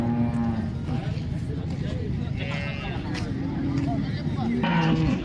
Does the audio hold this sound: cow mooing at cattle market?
yes